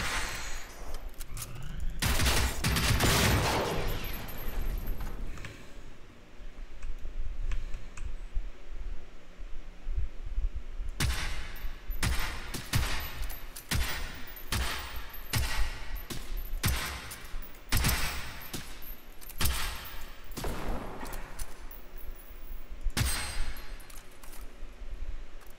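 Rifle gunfire in the video game Generation Zero during a co-op bunker fight, with loud bursts of shots clustered early, then a dense run of sharp reports midway and a few more near the end over a steady game background.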